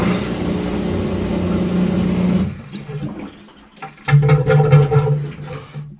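Rushing water drains steadily from a Maytag/Whirlpool top-load washer, then stops; after a brief lull the drain pump gurgles and sloshes loudly in uneven surges.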